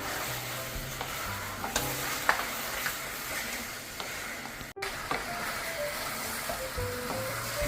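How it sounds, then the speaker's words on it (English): Ginger and garlic paste frying on high flame while being stirred, with a steady sizzle and repeated scraping stir strokes, close by and with no talking. "Mix it well and again keep frying it"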